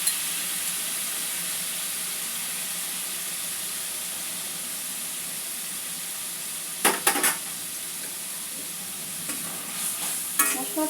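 Masala sizzles and hisses steadily in a pan with a splash of water and salt for a coconut brinjal curry, a close constant fry later broken by a few brief scraping stirs.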